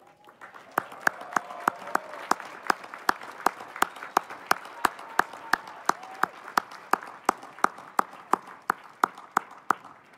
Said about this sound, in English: join me in a round of applause to those who have supported you each and every step, your family and friends